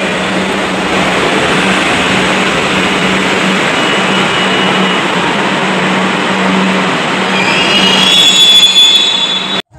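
A local suburban train running on rails near Garia, with a loud, continuous rumble of wheels and carriage from inside. A high squeal rises near the end, then the sound cuts off abruptly.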